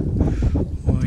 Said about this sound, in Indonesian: Ini sejuk sekarang angin ni.